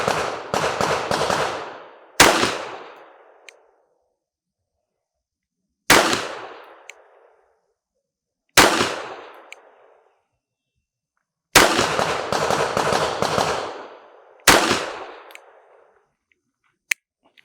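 Sharp S&W Shield EZ pistol shots crack out in bursts at a shooting range, a rapid volley, then single and paired shots spaced by pauses, each with a short echoing tail; no talking.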